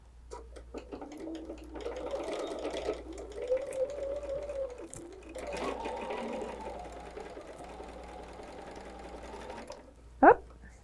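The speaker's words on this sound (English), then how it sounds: "let's go sew right down that line" A sewing machine stitches binding along a table runner in several loud, close bursts of rapid whirring with short pauses between runs, ending with a sharp click.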